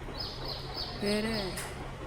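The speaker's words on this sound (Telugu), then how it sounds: "ఏదో బర్డ్ అరుస్తుంది" A bird calls outdoors beside a leafy tree, a few short repeated chirps followed by a clearer warbling call, faint and somewhat distant over light background noise.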